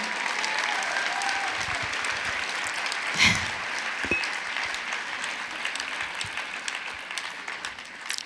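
An audience at a stage event in Paris applauds steadily, a dense wash of clapping that holds throughout with a few louder claps and faint crowd murmur.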